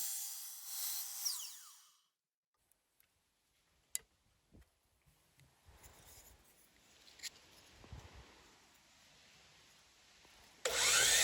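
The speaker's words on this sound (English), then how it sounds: "do a little bit of trim work on the miter saw" A miter saw cuts wooden trim briefly at the start, loud and whining, then stops; quiet taps and handling noises follow before another loud burst at the end.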